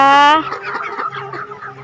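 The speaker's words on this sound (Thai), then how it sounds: "ไก่ที่อยู่กับป้าจ๋าหนึ่งหมื่นสองพันตัวนะคะ" A loud, tonal call opens briefly, then a crowd of chickens from a twelve-thousand-bird farm clucks at moderate level in a busy, continuous murmur.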